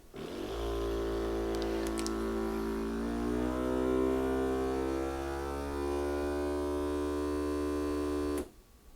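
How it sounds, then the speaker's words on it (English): A steady motorized hum runs for several seconds as an Avid Armor vacuum sealer pumps on auto vacuum and seal, its pitch slowly shifting, then cuts off abruptly near the end. "we'll go ahead and press auto vac and seal"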